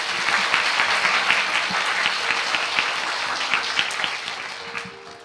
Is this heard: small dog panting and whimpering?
no